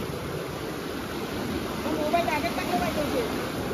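Powerful rushing water surges through a knee-deep channel being waded across, a steady loud roar that swells slightly toward the end, with faint voices under it.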